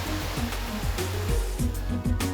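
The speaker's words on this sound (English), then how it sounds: "I can see the creek here and the little waterfall." A small waterfall on a creek in a rainforest in Australia's Flinders Ranges gives a steady, dense rush of flowing water, constant and fairly close, with low rumbling hums running underneath it.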